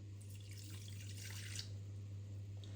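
Water pours steadily into a pot to make sugar syrup. The stream is soft and quiet, with a faint running trickle lasting a few seconds and no voices.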